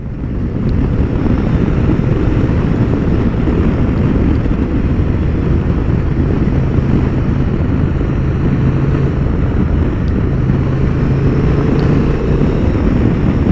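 A Honda XL750 Transalp motorcycle riding along narrow country roads in Romania, heard as a steady, loud engine drone buried under continuous heavy wind rush throughout, with no talking.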